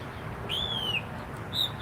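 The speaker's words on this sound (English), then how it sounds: "Like right now, this bird just singing his little heart out, right?" A bird sings nearby, giving two clear whistled notes, the first longer and gently falling, the second short, over a quiet outdoor background.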